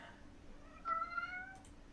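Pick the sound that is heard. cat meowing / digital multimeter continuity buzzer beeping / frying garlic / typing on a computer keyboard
cat meowing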